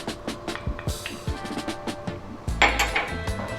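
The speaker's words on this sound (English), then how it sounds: "Let's start by dropping in the star anise and the ginger along with the garlic." Star anise, ginger and garlic tossed into a hot pan for Chinese cooking, a quick series of light clinks and knocks against metal followed by a louder sizzling clatter near the end, close by.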